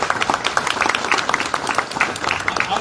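A crowd applauding a mayor at a grand opening, with clearly audible individual claps, lively and fairly close, continuing steadily for a few seconds.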